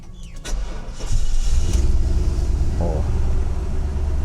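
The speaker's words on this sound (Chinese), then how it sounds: "现在水温大概70度左右我们来做一个热车的发动。" A Mercedes W126 560SEL V8, warm after a drive, hot-starts with a short cranking burst, then catches into a loud, steady, close idle rumble that holds to the end.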